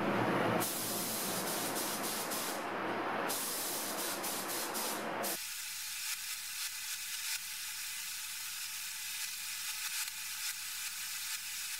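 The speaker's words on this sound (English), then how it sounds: "I'm going to first add two coats of etching primer." Etching primer hisses loudly from a spray can onto metal parts of a 1960s Omal Universal Money Checker, a dense close spray for several seconds with a brief pause, then stopping and leaving quiet background.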